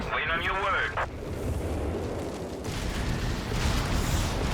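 Artillery shells burst in Company of Heroes 3 during a Wehrmacht versus US Forces match, a dense continuous rumble of explosions running under a commentator's voice, with a whistling incoming shell near the start.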